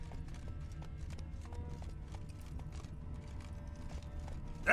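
Hooves of the horse Roach in The Witcher 3 game, a steady clip-clop of walking steps, moderately close and even in rhythm, with faint mechanical game ambience behind.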